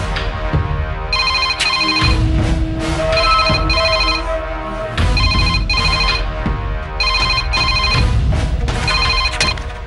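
A telephone rings in repeated bursts of bright electronic ringtone over a loud, busy backdrop, with short gaps between rings, heard in a Tamil TV serial domestic scene.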